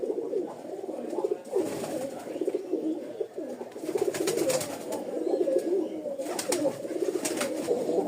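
Pigeons cooing in a loft of breeding pairs, with soft, repeated throaty coos that overlap continuously at close range, and a few brief brighter bursts breaking through.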